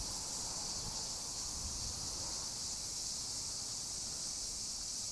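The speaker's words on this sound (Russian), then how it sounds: "Вот так стрекочут цикады." Cicadas droning in Japan during festival season, a steady high-pitched buzzing chorus that holds evenly throughout, moderately loud, with no voices.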